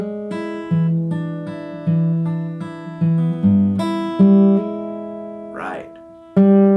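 An acoustic guitar played fingerstyle with hammer-ons on a song, picked notes and ringing bass tones in a steady pattern, close and clear, with a brief murmur near the end.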